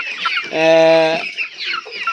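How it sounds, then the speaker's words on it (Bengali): Close, distinct chicken call on a poultry farm: a drawn-out tonal cluck in the middle, surrounded by softer clucks and chatter from nearby hens and roosters. "অনেক সুন্দর সুন্দর মরক মুরগি চেহারা দেখুন"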